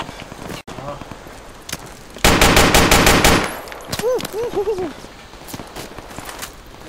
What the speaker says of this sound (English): Still shooting on me, still shooting on me.